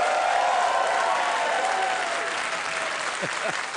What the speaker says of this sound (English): you may get a round of applause